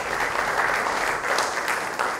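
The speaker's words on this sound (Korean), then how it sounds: "박수 한번 보내주십시오." A seated audience at a drama and video international forum applauds with a dense, steady wash of clapping. It stays loud and even for the whole stretch, with no voices over it.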